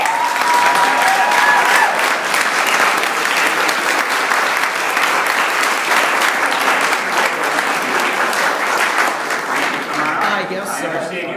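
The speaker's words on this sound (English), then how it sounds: "let's all give a big round of applause" Loud, sustained applause from a crowd fills the air, steady clapping for several seconds that thins out near the end.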